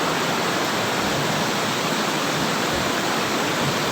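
An old river dating from 1911 flows in a steady, dense rush of water, loud and continuous with no pauses and no voices.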